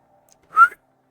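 A narrator imitating a slight whistle with the voice, one short, clear rising note lasting about a quarter second, heard alone against silence.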